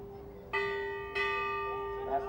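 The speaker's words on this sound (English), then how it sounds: "there's the second bell, the end of the chukker" A bell rings twice at a polo match to end the fourth chukker, two clear sustained strikes a little over half a second apart, each tone ringing out and fading slowly under faint background ambience.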